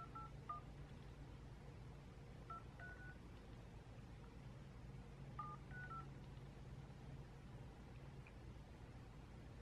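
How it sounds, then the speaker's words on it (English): Telephone keypad tones sound as a number is dialed, a few short, faint beeps in two quick clusters over a low steady hum. "I don't think I typed the number in right."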